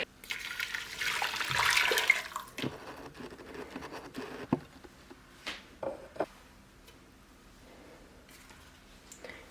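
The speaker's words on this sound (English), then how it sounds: "I will be creating like a big pot of coffee and dunking these pieces in" Fabric scraps being dunked and swished in a pot of coffee, starting with a splashy pour-like wash of liquid, then scattered soft sloshes and wet squishes that fade to quiet.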